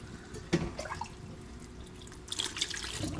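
Water splashes and drips in a small tub while a six-week-old baby is rinsed during a bath, with soft pours and trickles at close range and a few louder splashes.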